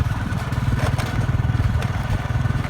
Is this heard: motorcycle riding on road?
yes